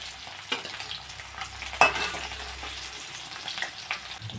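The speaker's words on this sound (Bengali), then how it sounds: "এগুলোকে আমি উল্টা পাল্টা করে ভেজে নিলাম।" Garlic and spices fry in a pan while being turned over, a steady crackling sizzle with a sharp clank of the utensil near the middle, no talking.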